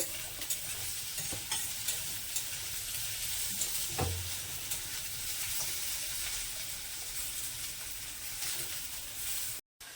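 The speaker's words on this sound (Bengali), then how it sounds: "দেখো আমি পটলটা ভাজা বসিয়ে দিয়েছি আর তারপরে ভাজা হয়ে গেলে আলুটা দিয়ে আর নাড়াচাড়া করে" Pointed gourd and potato fry in a pan with a steady, close sizzle. Occasional stirring scrapes and taps cut through, and the sound drops out briefly just before the end.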